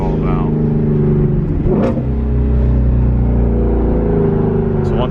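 A Ford Mustang GT350 revs loudly through its exhaust, with a sharp blip and steady rumbling engine tone near and prominent throughout.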